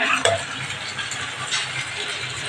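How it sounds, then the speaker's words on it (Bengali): Leftover jackfruit curry being reheated in a pan and stirred with a utensil, a soft steady scraping and faint sizzle with one sharper clink near the start, close and continuous. "ইঁচড়টা গরম করে নিচ্ছি"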